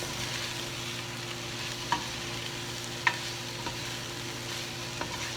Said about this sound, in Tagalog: Stir it occasionally